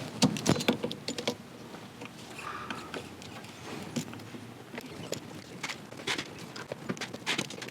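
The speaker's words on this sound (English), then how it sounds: "I'm just going to use the pliers on the button. And again, just twist counterclockwise." Steel pliers grip and twist the soft e-brake button counterclockwise on a 2022 Subaru WRX during a Noble drift button install, giving irregular close metallic clicks and scraping taps with no talking.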